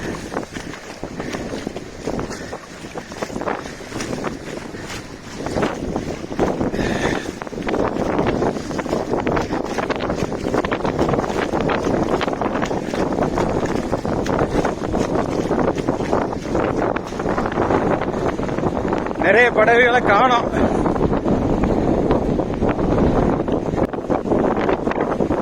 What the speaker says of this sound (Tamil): காத்து அடிக்க ஆரம்பிச்சிருச்சு.